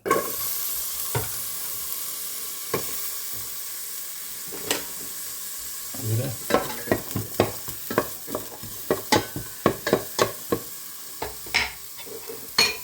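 Onions sautéing in a pan for a pumpkin dish, a steady sizzle that gives way to a quick run of rhythmic spatula scrapes and clacks against the pan, close and clear with no talking.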